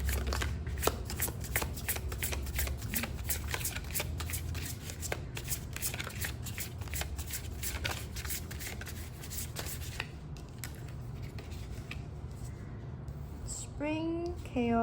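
Tarot cards are shuffled close up in a continuous rapid riffling and rubbing, and someone speaks briefly near the end.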